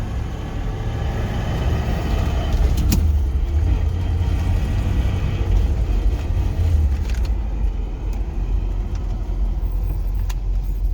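A 1966 Corvette with newly replaced rear brake calipers drives along, its engine a steady low rumble with road noise and a few small rattles, heard from inside the car with no talk.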